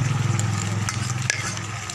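Onion rings sizzling in a frying pan while pork steak cooks, heard as a soft, steady sizzle under clinking and stirring, with a voice talking over it.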